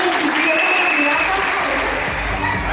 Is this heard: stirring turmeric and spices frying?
no